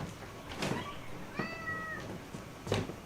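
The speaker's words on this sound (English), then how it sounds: "Hi there, Loud Cat" A loud cat meows repeatedly indoors, three or four drawn-out calls spaced across the moment, fairly close with no talking.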